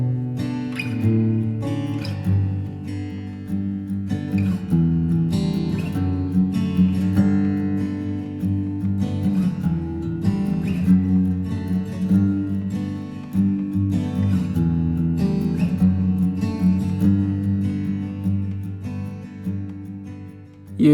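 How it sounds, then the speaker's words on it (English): Two acoustic guitar tracks strum together in a steady, full rhythm for about twenty seconds as part of a song demo, with no voices over them. "we initially laid down some acoustic guitars, just 2 of them, and together those sound like this"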